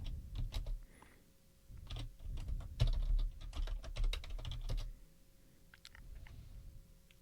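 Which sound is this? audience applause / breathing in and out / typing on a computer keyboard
typing on a computer keyboard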